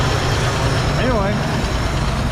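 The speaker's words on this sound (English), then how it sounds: "You can hear our exhaust we got put on." A 1970 Ford F250 pickup fitted with a Cherry Bomb exhaust idles with a steady, loud low rumble, and a voice speaks briefly over the engine.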